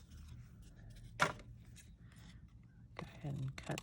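Scissors trim the edges off a piece of cardstock for a snowflake-themed handmade card, giving one sharp snip and then a short cluster of crisp cuts near the end, close and fairly quiet in a calm room.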